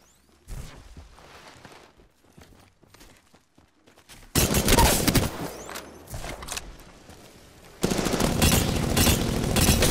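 Gunfire in the video game Apex Legends: loud bursts of rapid automatic fire, sparse shots at first, then dense sustained volleys near the end.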